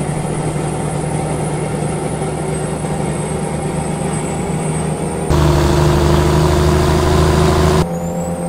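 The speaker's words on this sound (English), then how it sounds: "Gotta be one of my, if not my most favorite engine sound in the game though." A heavy truck engine idles in American Truck Simulator, a steady low rumble with a constant drone and faint high whine, stepping up abruptly louder and deeper for a few seconds before settling back.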